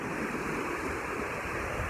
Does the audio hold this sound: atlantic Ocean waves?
yes